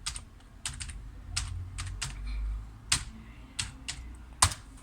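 Keystrokes tap out a password on a computer keyboard at a Linux desktop: sharp, close clicks arrive in short uneven bursts over a low room hum, with one louder key strike near the end.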